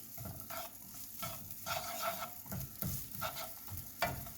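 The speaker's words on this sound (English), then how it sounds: "We just want to saute these until they're nice and soft." Vegetables with minced garlic being sautéed in a pan for vegan chickpea burgers, a quiet sizzle under repeated rhythmic stirring scrapes, with no talk.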